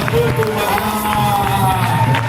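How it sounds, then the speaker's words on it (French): A church congregation at a Sunday thanksgiving service cheers and acclaims together, a loud sustained crowd roar with whoops and shouts filling the space throughout. "Est-ce que tu peux amplifier ton acclamation?"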